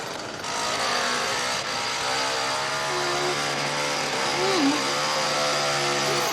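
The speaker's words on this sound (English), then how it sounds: "Those guys aren't playing with that chainsaw, that's for sure." A chainsaw drones steadily with a shifting pitch throughout a tense scene from the film Scarface, loud and continuous with a rising whine midway.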